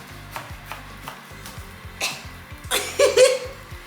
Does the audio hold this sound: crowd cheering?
no